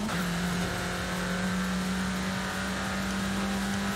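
A Renault Clio RS engine in Forza Horizon 5 drones loudly at a steady pitch throughout, holding a sustained tone with road and tyre noise beneath it.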